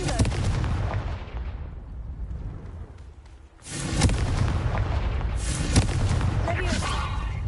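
In Hogwarts Legacy, fiery Confringo spell blasts erupt in loud, crackling bursts with rumbling low tails, first a sustained barrage, a brief lull, then renewed explosions with sharp pops.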